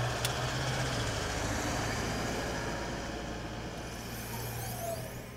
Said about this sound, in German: Das ist ein Diesel, der gerade hier vorbeifährt.